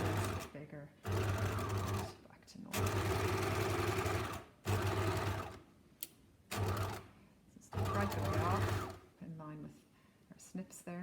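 Sewing machine stitching a collar, several loud mechanical runs of rapid whirring stitches broken by short pauses, close by, with a person talking between bursts.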